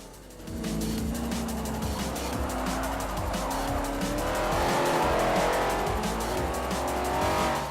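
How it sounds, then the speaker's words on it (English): Throaty V8 muscle car engines in a racing video game roar continuously as cars race past, with a brief tire squeal and the rumble swelling and fading in the distance. "Sounds of more V8 muscle."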